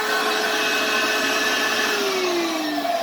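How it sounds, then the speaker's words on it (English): Vacuum pump drawing water through a clear siphon tube, a steady loud whine and rush holding constant, with a tone that slides downward near the end. "That's the vacuum pump, right?"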